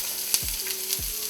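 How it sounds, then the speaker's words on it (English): Onion sizzles in melted butter in a pan on the stove, a steady close frying hiss with a couple of soft stirring clicks. "You hear that sizzle? That's how you know you're ready to rock and roll."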